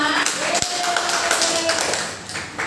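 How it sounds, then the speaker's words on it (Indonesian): A crowd of teachers claps steadily for a few seconds, a dense wash of applause with a faint voice and a brief tone mixed in. "tepuk tangan untuk kita semua"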